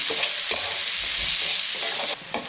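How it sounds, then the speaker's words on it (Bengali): Onions and garlic sizzling in a pan, steady close frying hiss punctuated by several stirring scrapes and taps, dropping off briefly near the end, with no speech. "পেঁয়াজগুলো দিয়ে দিচ্ছি হ্যাঁ?"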